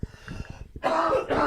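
A single cough bursts out loudly and harshly after a few quieter throaty sounds, close to the listener.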